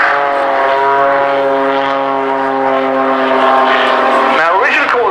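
An aerobatic biplane diving at the RAF Cosford airshow: a loud, steady propeller engine drone that holds throughout and shifts in pitch near the end.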